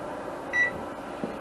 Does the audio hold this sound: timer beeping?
yes